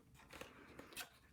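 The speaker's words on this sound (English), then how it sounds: "just take your scissors and just snip" Scissors snip a paper belly band for a small treat box, a few faint, quick crisp cuts spaced irregularly, with no talking.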